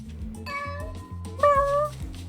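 A golden kitty in the video game Hell Pie meows twice, clear tonal cries over a thumping low game-music loop that pulses steadily underneath.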